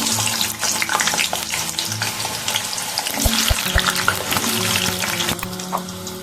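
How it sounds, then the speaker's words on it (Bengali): Potatoes sizzle and fry in hot mustard oil in a kadai, a steady crackling hiss with a few sharp knocks and scraping sounds from stirring partway through. "আমি এই তেলের মধ্যে এবার ভেজে নেব আলু।"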